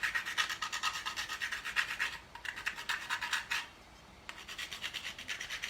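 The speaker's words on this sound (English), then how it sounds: "This is a nutmeg grater." Whole nutmeg scraped across a small metal nutmeg grater in quick, steady rhythmic strokes, close and fairly soft, with two brief pauses between runs of rasping.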